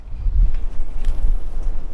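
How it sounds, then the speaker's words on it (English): Strong, gusty wind buffets the microphone outdoors on a lake while crappie fishing by a dock, a steady low rumble with swelling gusts and no clear talk. "That wind is awful."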